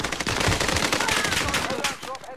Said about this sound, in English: Ain't nobody saying where the shots are coming from